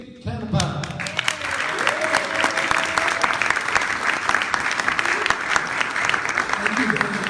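A rally crowd applauds as a supervisor from neighboring San Mateo County is introduced, the clapping loud and dense, building quickly and holding steady throughout, with a few shouts mixed in.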